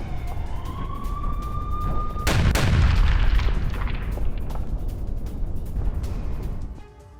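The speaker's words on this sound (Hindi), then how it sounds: "इजरायल ने मिसाइलें दागी हैं।" Israeli missile strike on a Hezbollah position: a thin whistling tone is cut off by a single loud, close blast with a heavy low rumble that rolls on for several seconds before dropping away.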